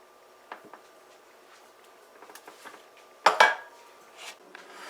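A pot of Guyanese flour porridge lifted off the stove, with scattered metallic clinks and scrapes of pot and utensils, then one louder clatter near the end, fairly close and without speech.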